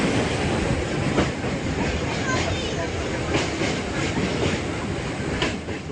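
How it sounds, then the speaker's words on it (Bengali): Interior of a stationary train waiting to depart, with a steady dense rumble of carriage noise, faint clanks and background chatter of passengers throughout, moderately loud and close. "গাইজ, এখন আমরা ট্রেনে উঠে পড়েছি। এই সবে একটুক্ষণ পর ছাড়বে আমাদের ট্রেনটা"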